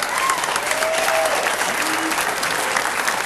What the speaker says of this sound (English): And all that applause you hear is just acknowledgement of a great match on one of the outside tables.